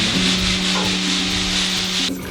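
Volcanic coffee beans roasting and being stirred in Antigua, Guatemala, giving a steady dry scraping rustle with a low hum beneath, continuous and fairly loud, ending abruptly near the end.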